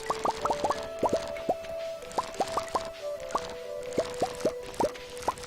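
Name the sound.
watering corn and cranberry crops in farming video game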